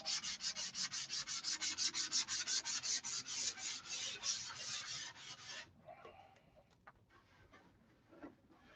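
Sandpaper rubbing back and forth over the finish of a control line stunt model plane, a fast steady run of loud, close scratchy strokes for about six seconds, then stopping into softer scattered handling noises.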